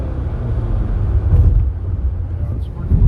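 A 2012 Nissan Sentra with a 2-liter engine and CVT idles steadily, a low, even rumble close by with a slight rise near the end.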